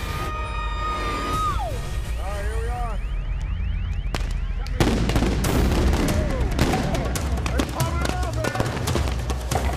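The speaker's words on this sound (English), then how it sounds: "it seems like they're throwing flash bombs now. There's explosions going off." Loud sharp bangs and flash-bang grenade explosions break out in the middle of a tense outdoor protest scene in Ferguson, with wailing alarm-like tones and shouting voices throughout.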